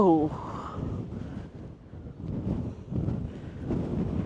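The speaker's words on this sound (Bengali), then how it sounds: "কি পরিমাণ বাতাস!" Strong wind gusting across the microphone on a hilltop in a Hong Kong village, a loud steady rumbling roar that swells and eases, with a voice speaking briefly at the start.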